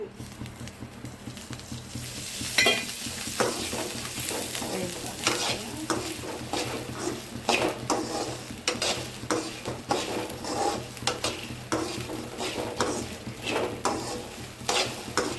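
Food frying in hot oil in a pan, with a steady close sizzle and repeated scraping stir strokes throughout and no talking.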